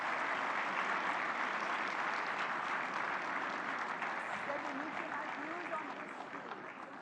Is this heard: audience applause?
yes